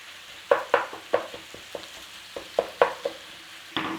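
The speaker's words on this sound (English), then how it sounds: "in with the beef. Break up your beef, start to cook it down" Beef frying in a pan with garlic and onion, a soft sizzle broken by repeated sharp scrapes and taps of a utensil breaking up the meat, close and fairly quiet with no speech.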